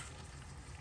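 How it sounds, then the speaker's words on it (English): Cassava chips fry in very hot oil, giving a short, faint, steady sizzle and bubbling hiss with no voices. "It's very well fried now, so it's time to start taking them out from this very hot oil."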